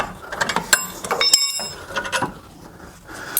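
Ratchet wrench clicking in quick bursts while loosening a brake caliper bolt on a 2013 Mercedes C300, close and fairly loud with short pauses between pulls.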